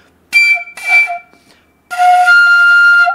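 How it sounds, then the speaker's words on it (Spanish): A recorder plays a D that cracks and falls short of the upper octave when underblown, giving two short wavering attempts followed by a steadier sustained low tone. "Si no estás llegando al re, por ejemplo, suena así."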